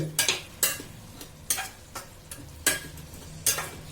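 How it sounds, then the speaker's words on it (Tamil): Onions and tomatoes sautéing in a pan with a steady low sizzle, stirred in sharp, repeated scraping strokes about every second, close and clear with no voices. "இப்போ பார்த்தீங்கன்னா நல்ல வெங்காயம் தக்காளி வதங்கி இருக்கு"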